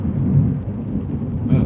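Thunder rumbles through a severe thunderstorm, a loud, continuous low-pitched roll that holds steady for the whole stretch and swells again near the end, with no voices.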